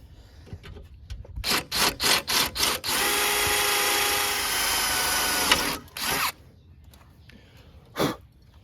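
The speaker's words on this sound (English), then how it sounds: "Let's drill that other hole." A power drill whirs drilling through a push lawn mower in several short bursts, then runs steadily for a few seconds before stopping, followed by two more quick bursts.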